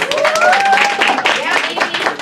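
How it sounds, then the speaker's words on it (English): Audience applause at a self-care summit greets a woman coming up to speak, a loud close wash of clapping mixed with cheering voices and a whoop. "Let's give her a round of applause."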